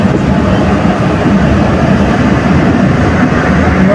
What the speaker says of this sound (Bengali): ঢুকে গেল আমাদের ট্রেন নোয়াপাড়া।